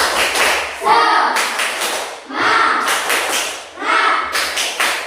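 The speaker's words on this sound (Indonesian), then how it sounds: "Yuk, tepuk semangat ya." Classroom pupils clap a rhythmic spirit cheer together, three loud bursts of group clapping and chanting voices with short pauses between them.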